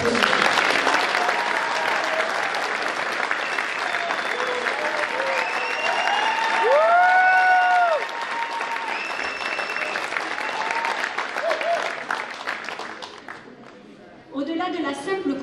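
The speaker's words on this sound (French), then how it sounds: "On peut les applaudir." A hall full of people at a town's New Year's greetings ceremony gives long, steady applause for several seconds, and a voice speaks at the very end.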